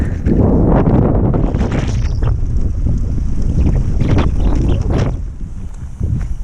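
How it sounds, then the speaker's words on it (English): Strong headwind roars and buffets against the microphone while cycling on a tarmac road in Europe, loud continuous low rumble with gusty swells and a few sharper rustling bursts, easing slightly at the end. "there's still this headwind blowing in our faces"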